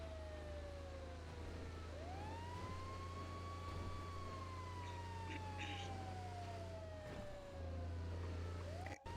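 A wailing emergency vehicle siren in GTA V sweeps up and down in long glides over a steady engine drone, loud and continuous throughout.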